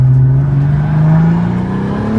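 BMW F80 M3 fitted with a single turbo kit, engine revving loud and close with a rising, strained tone that climbs steadily over a couple of seconds, with no talking.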